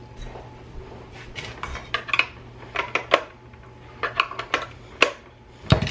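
Dishes, pots and cutlery clatter and clink repeatedly while being rinsed at a kitchen sink, with irregular bursts of knocks and scrapes over a low steady hum, close and fairly loud, no talking.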